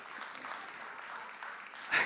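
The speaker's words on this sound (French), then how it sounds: "On l'applaudit." A studio audience claps steadily for a chef after a cooking lesson, a soft, dense patter of applause heard from a distance, rising briefly louder at the very end.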